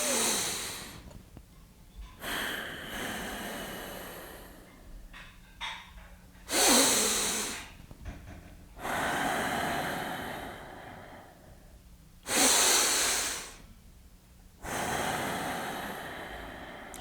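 Deep preparatory breaths for a CO2 tolerance test alternate between long, loud, airy inhales and exhales, each lasting a couple of seconds with short quiet gaps between them. The breathing is close to the microphone.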